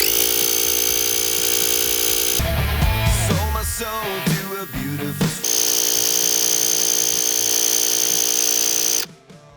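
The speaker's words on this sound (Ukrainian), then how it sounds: "Компресор! Так, підспущене колесо." A portable air compressor attachment on a Revolt multitool buzzes loudly and steadily while inflating an underinflated car tire. The tone wavers and breaks up briefly midway, then the compressor runs on evenly before stopping abruptly near the end.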